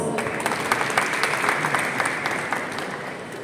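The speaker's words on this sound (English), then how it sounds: "Let's have a round of applause." A room full of people claps steadily for a few seconds, at moderate distance, with no voices over it.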